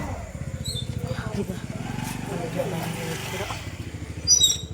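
A motorcycle engine idles steadily with a low, rumbling throb. People talk over it, and there is a brief louder burst near the end.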